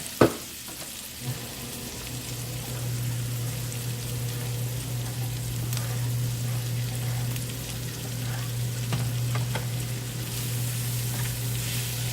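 Zucchini noodles sizzle over medium heat in a pan, a steady close hiss running throughout with a low hum underneath and occasional soft stirring clicks.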